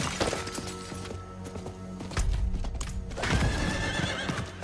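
A horse neighs in the video game Diablo 4, with loud whinnies and clip-clopping hooves over a dense game soundtrack, with no talking.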